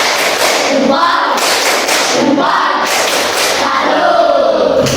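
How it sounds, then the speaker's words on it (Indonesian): A classroom of students performs the rhythmic 'tepuk salut' group clap for a presenting team, a dense, loud burst of many hands with thumps and crowd noise filling the whole stretch. "kita berikan aplaus tepuk salut untuk kelompok 2"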